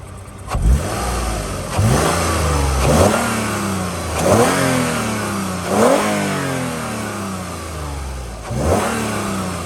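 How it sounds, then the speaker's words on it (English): 2011 Toyota Sienna LE minivan engine revved in several sharp blips, each rising and falling back to idle, about five revs spaced a couple of seconds apart, close and clear. "let's rev it up a little bit here"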